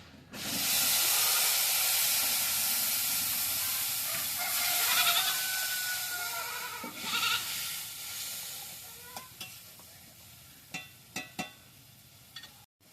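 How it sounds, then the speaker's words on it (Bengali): Onion and chilli paste dropped into hot oil with nigella seeds in a frying pan gives a loud, steady sizzling hiss that swells, then eases, followed by a few sharp clicks and taps near the end. "এবার পেঁয়াজ আর লঙ্কা বাটাটা দিয়ে দেবো।"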